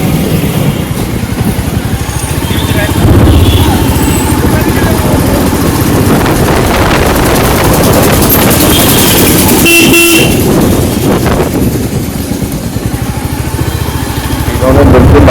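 A motorbike on a road trip through Murshidabad, its engine droning loudly and close alongside busy road traffic, with car and motorcycle horns tooting now and then and a voice talking over the din.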